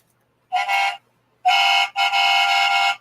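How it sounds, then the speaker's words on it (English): Three short, bright horn honks sound from an Agora Models FDNY Ladder 9 model fire truck, close and loud, separated by silence, with the last toot held longer. "I can honk the horn."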